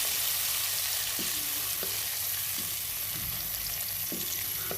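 Chicken Afghani gravy cooking in a covered pan over high heat, giving a steady low sizzle and bubbling throughout with a few soft clicks and knocks, fairly close and without any talk.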